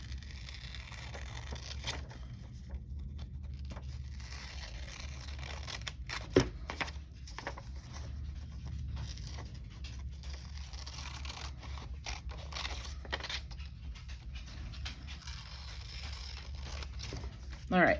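Scissors snip through paper for an Earth Day heart craft, a steady run of soft cuts and rustles with a louder snip near the end, heard under a low background hum.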